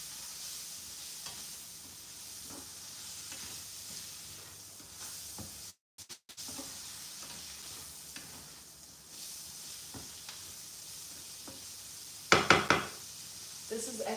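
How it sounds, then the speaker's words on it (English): Onion frying in a pan, a steady low sizzle under stirring clatter and occasional knocks of a utensil against the pan. "fry the onion"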